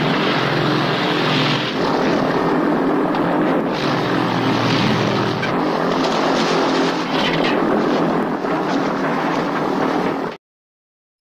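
A light aircraft's propeller engine drones loud and steady during a troubled landing approach, with wheel and engine failure, before cutting off abruptly near the end.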